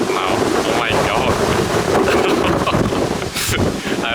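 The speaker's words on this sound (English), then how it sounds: "it's really windy right now" Strong wind buffets the microphone at a seaside train station in Japan, a constant loud rumbling roar with gusty surges, with a person talking underneath.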